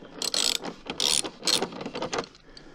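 A ratchet wrench loosening the tank cover bolts on a 2014 KTM 390 Duke motorcycle, several quick bursts of close, loud clicking in a back-and-forth rhythm, followed by lighter clicks.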